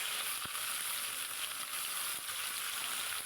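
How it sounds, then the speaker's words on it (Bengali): A fish head fries in hot oil in a wok, a continuous close hiss and crackle with a few sharper pops, steady throughout with no talking. "এইদিকে কড়াইতে তেল বসিয়ে মাছের মাথাটা দিয়ে দিলাম"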